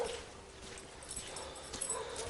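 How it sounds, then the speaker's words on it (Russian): Several dogs roaming a small village in the countryside, heard as faint, distant barks and whimpers over a steady low outdoor background. "Собаки гуляют. Кстати, уже в поселке собак 5-6, наверное."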